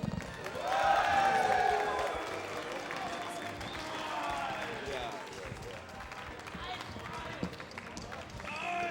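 Crowd cheering and applause at a Melee top 8 esports event, swelling loudly early and then fading under an announcer's voice.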